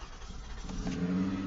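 An older, cheaply bought Toyota Avalon under restoration cranks briefly and catches, then settles into a steady, low idle hum, recorded nearby.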